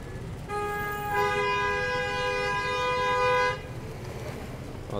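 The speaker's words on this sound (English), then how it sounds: "No wonder why there's a lot of traffic here" A long, loud car horn blast holds steady for about three seconds on a busy Astoria, Queens street in New York City, with steady traffic rumble underneath.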